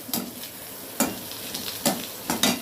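Beetroot chutney ingredients sauté in a pan. A soft, steady sizzle runs throughout, broken by about four crisp scraping stir strokes, close up and with no voices.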